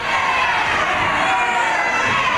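A wrestling arena crowd roars and chants in unison, a dense, continuous wash of many voices at a steady loud level.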